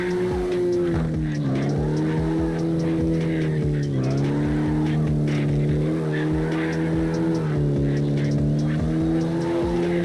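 A car drifting in the CarX Drift Racing Online video game, its engine droning steadily and loud while tires squeal continuously, with the pitch wavering as the throttle shifts through the slide.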